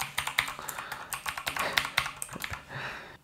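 Fingers type rapidly on a Gamepower Saber RGB mechanical keyboard with blue switches, giving a dense, close, clicky clatter of keystrokes that stays steady throughout.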